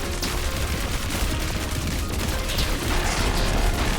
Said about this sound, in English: those explode after I shoot them